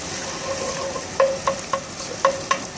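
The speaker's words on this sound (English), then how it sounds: "nothing's browning because I'm keeping it moving. I don't want the garlic to burn" Sausage and garlic sautéing in a pan for escarole bean soup, an even close sizzle broken by a regular series of sharp spoon clinks and scrapes against the pan as it is kept moving.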